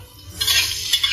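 Garlic scapes tossed quickly in a hot wok give a short burst of hissing sizzle and scraping stir-fry noise, close and loud, with no talk.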